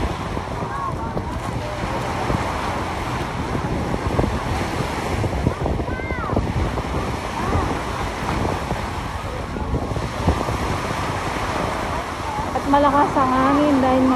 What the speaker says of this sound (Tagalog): Malakas ang hangin dahil nga po ay sa panahon natin ngayon ay umuulan, umaambon